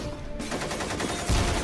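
An exploding cucumber bursts and flings out its seeds, a sharp loud pop near the end rising over a steady rushing background.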